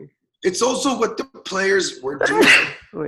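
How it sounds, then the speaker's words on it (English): A person sneezes close to the microphone during a casual conversation among several people, a sharp burst amid ongoing talk. "It's a sneezing train"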